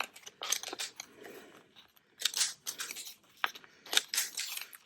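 Scissors snip along the edges of a paper belly band, a series of short, crisp cuts at close range with small gaps between them.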